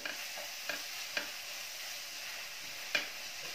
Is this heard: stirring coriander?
yes